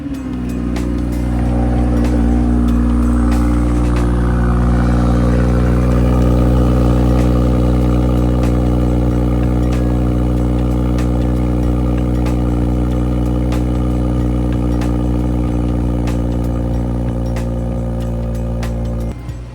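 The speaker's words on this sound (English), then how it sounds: "So that's the cold start with the stock exhaust on the BMW X3 M40i" A BMW X3 M40i cold-starts through its stock exhaust, the engine settling into a loud, steady, high idle that runs on without a break.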